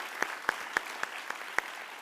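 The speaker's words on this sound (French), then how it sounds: "je lance les applaudissements" Sparse applause at a closing and awards ceremony, a few distinct claps spaced evenly at roughly quarter-second intervals, moderately close over faint room noise.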